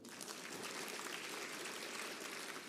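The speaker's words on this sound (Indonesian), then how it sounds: "Tepuk tangan Bapak dan Ibu." An audience at a business seminar applauds: steady, faint, sustained clapping from many hands, with no pause across the stretch.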